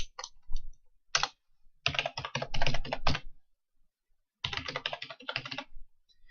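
Bursts of quick keystrokes on a computer keyboard as a URL is entered, clustered in runs separated by short pauses, close and clear with no voices.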